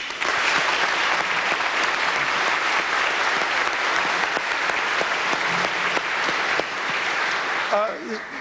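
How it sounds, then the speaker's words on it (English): Sustained crowd applause at a police academy graduation ceremony, loud and steady for about eight seconds before thinning slightly at the end. "If we can give them a round of applause."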